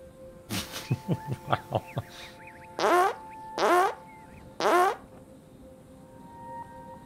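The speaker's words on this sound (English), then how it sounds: "you come upon a plant that makes fart noises when you touch it" An alien plant in a video game lets out cartoonish fart noises when touched: a quick run of six short bursts, then three longer, loud, wobbling blasts, each separated by brief pauses.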